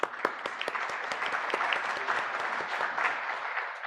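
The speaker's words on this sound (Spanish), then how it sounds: "Nuevamente fuertes aplausos." Loud applause at a training-course closing ceremony, many hands clapping steadily and close throughout, with crisp individual claps standing out.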